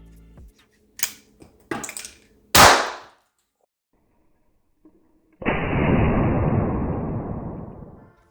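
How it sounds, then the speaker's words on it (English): A ThunderStrike V2 airsoft impact grenade goes off with several sharp cracking bangs, then after a pause comes a long, loud hissing burst that fades out, with no speech. "once you pull the pin and release the spoon, it'll be armed and ready to fire"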